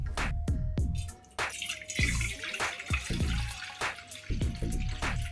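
Water pours and drips into a bowl while jowar ambali is being made, a steady splashing with repeated sharp drip-like transients throughout.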